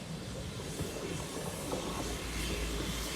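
A passenger train arriving and ending its run at a station in Opole, a broad rumbling hiss with faint wheel clicks, distant and steady throughout.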